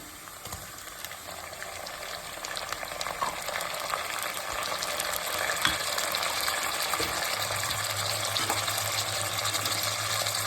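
Tomatoes sizzling and frying in a hot pan of roasted brinjal masala for vangi bath, a steady close crackle with occasional stirring scrapes, no talking.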